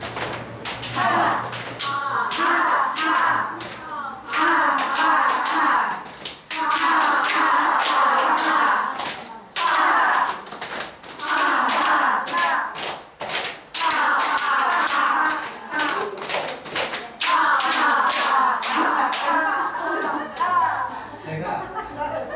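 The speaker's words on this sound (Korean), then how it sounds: "박수." A group at a Buddhist temple lecture claps hands in a repeated rhythmic exercise, sharp slaps in quick patterned runs with brief pauses between them, close and loud, while people laugh and talk along over it.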